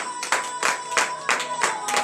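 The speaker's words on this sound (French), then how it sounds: "Donnez de vive acclamation à l'Éternel." A church congregation at morning prayer claps in acclamation, with clear rhythmic group claps landing roughly every third of a second over a sustained organ-like tone.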